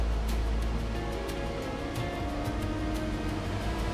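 A monsoon waterfall near Trimbakeshwar, about 4 km off the Mumbai–Nashik highway, roars as a steady, dense rush of falling water, loud and continuous with no voices over it.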